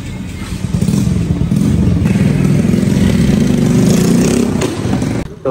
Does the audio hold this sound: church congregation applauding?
no